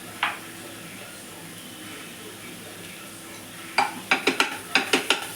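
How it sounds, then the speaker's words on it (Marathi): Masala for egg curry sizzles softly in oil under steady hiss, then a quick run of spoon scrapes and taps against the pan sounds near the end, close by. "तेलामध्ये हलवून पूर्ण परतून घ्यायचा मसाला"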